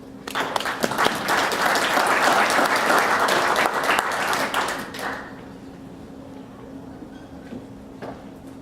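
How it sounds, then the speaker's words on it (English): A large audience claps in a sustained round of applause welcoming a presenter at a residential energy efficiency talk, dense and steady for about five seconds before fading into room quiet. "Will we give him a round of applause and welcome up here?"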